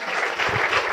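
A large, mostly young crowd at a motivational talk bursts into loud, dense applause, many hands clapping close and continuous with slight swells, no speech over it.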